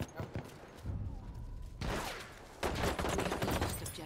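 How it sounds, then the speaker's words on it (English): Gunfire in the video game Battlefield 1 crackles in bursts of rapid shots, with a dense volley starting near the end, loud and close amid battlefield noise. "oh my god, I'm getting shot at"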